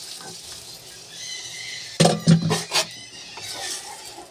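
Lentils added to a hot pan of spiced, browned mixture for potato dal, giving a burst of sizzling and stirring clatter around the middle, with a steady soft frying hiss before and after.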